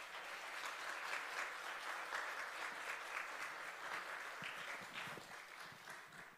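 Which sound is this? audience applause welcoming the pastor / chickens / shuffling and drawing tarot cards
audience applause welcoming the pastor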